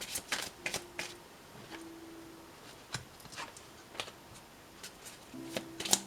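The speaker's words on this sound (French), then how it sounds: "On regarde quelques cartes pour vous." Tarot cards shuffled for a love reading: sparse, crisp riffling clicks and soft card slaps come up close and fairly quiet in an otherwise still room, with no talking.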